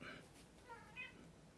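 A startled cat gives faint, brief meows and cries at a distance in a quiet room, its calls rising briefly at a couple of moments.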